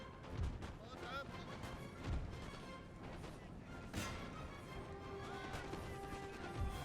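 Musket volleys and artillery fire in the battle game Napoleon Total War, distant repeated booms and crackling shots about every two seconds over a steady battlefield din.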